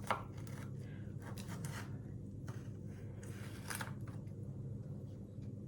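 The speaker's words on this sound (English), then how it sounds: "I'm like cutting them down a little bit into like longer strips, which work great in the oven" Knife slicing swede/rutabaga into long strips for oven roasting, a run of short scraping cuts against a board with brief broadband bursts, fairly quiet and close, no talking.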